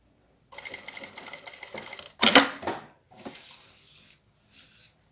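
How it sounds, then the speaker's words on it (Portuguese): A sewing machine runs a diagonal seam across a plastic pouch in several close, loud bursts of rapid stitching, separated by short pauses and a sharp handling clatter. "Vou fazer uma costura na diagonal, ó, saindo para fora."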